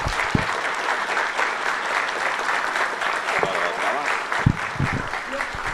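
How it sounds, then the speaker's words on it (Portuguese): An audience at a congress on artificial intelligence in the judiciary applauds the minister, with sustained dense clapping throughout and a few louder individual claps near the end. "eu peço, então, uma salva de palmas para o ministro"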